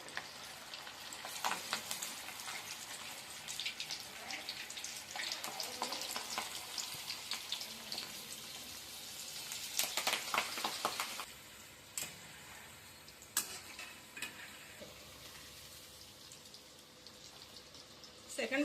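Chicken pakodi frying in hot oil for a South Indian street-style dish, a steady close sizzle and crackle with scattered louder pops and clinks, easing off toward the end.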